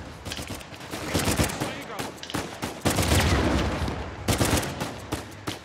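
Rapid gunfire bursts from the Uncharted 4 video game, dense overlapping shots and explosions filling the clip loudly, with a voice briefly audible underneath.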